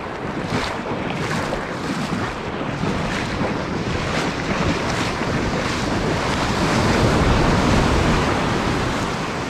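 Waves roll and crash continuously against a UK beach, a loud wash of surf with gusty wind buffeting nearby, the roar swelling toward the end.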